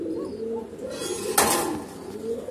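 Pigeons coo in a pigeon house with Koka pigeon chicks, a low throaty cooing repeated up close, with a brief bump of rustling partway through.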